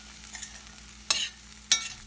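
Poha upma dressed with lemon juice is stirred in a pan, two quick scraping strokes standing out over a faint, steady sizzle, close by and without speech.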